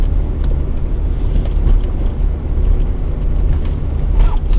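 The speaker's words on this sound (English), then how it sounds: "starting off in the car" A car pulling away and driving on a road, a steady engine and road rumble that stays loud and even throughout, with faint rattles and no talking.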